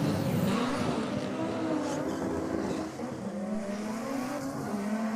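An Evo drag race car launches off the line in a cloud of front tyre smoke at a drag strip, a sustained engine roar with a rising harmonic drone, heard from a distance and fairly steady throughout.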